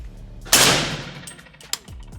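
A single sharp, loud crack from a Soviet Arms PSA AK in 300 Blackout firing an Ammo Incorporated 220 grain round, decaying over a second, followed by a brief metallic clink.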